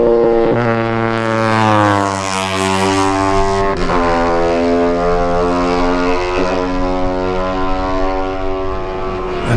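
A Honda racing motorcycle, number 72, passing during a lightweight race at the Manx Grand Prix on the Isle of Man, its high engine note strong and steady, sweeping by and dropping in pitch as it goes.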